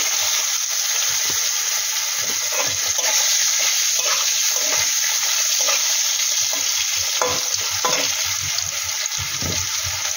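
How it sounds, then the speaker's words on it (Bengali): Potato pieces sizzle and fry steadily in hot mustard oil in a pan, a loud continuous crackle with occasional stirring scrapes and no talk. "এবার এতে দিয়ে দেবো প্রথমে আলুর টুকরো"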